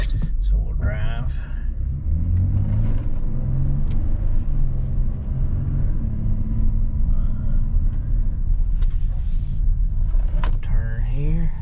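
A 2025 Honda Odyssey minivan drives along, its steady low engine and road rumble filling the cabin throughout, with muffled voices faintly present in the background.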